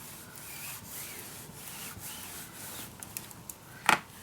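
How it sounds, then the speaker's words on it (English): Patterned paper being burnished flat by hand for a mini scrapbook album, soft repeated rubbing strokes close by, with a sharper scrape near the end. "Burnish it down."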